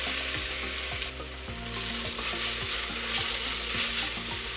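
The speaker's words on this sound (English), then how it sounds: "First, melt butter, unsalted butter, and add the diced apples." Diced apples sauté in melted unsalted butter for an apple tart filling, giving a steady close sizzle with repeated scraping and stirring strokes throughout.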